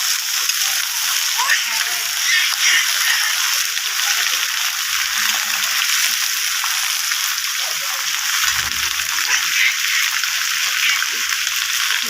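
Sliced flat beans and potatoes frying in hot oil with tempered spices give a steady, loud sizzle and crackle throughout, with a brief low thump near the end.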